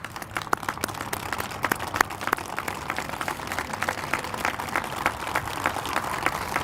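A crowd at a 2013 bridge opening ceremony in Salisbury applauds veterans, steady scattered clapping at moderate distance, continuous across the whole stretch with no talk over it.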